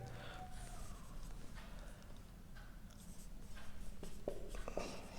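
Chalk or marker scratching on a lecture board during a mathematics class on alternating series of real numbers, a few faint strokes heard close over a steady low room hum.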